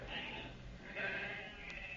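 Sheep bleat in an old-time radio western drama, a wavering, moderately close cry that rises midway over a hissy, muffled background.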